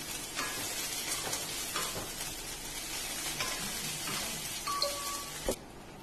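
Ginger paste frying in a pan gives a steady close sizzle with intermittent utensil scrapes and light clicks as it is stirred.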